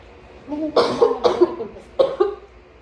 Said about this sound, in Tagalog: Ang ubo ko, sorry